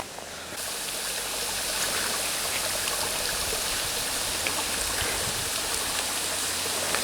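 Steady broadband rush of a waterfall-fed stream on a mountain in the Ozarks, continuous and close, swelling slightly after the first couple of seconds with no voices over it.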